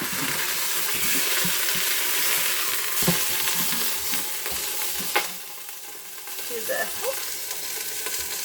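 Food sizzles and fries steadily in a hot pan, close up, with scraping clatters as it is flipped over partway through, after which the sizzle drops quieter before building again.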